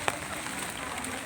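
Steady rain falls in a park around a shelter, a dense even hiss with no clear drops standing out and no voices.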